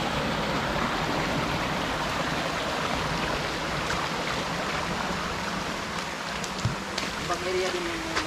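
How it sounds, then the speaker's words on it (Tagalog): Steady broadband rushing of waterfalls along a hiking trail at Minglan, Cebu, a continuous roar close by with brief faint voices and footsteps over it. "Daming waterfalls dito ah."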